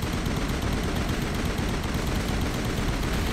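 Sustained heavy gunfire in Mass Effect, a relentless stream of rapid shots filling the whole stretch at steady loudness with no pauses.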